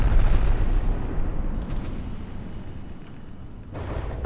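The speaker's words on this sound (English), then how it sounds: "Oh, another big explosion." Rumbling low boom from a big explosion in a battleship combat game, loud at the start and fading into a sustained dull roar with a second swell near the end, no talking.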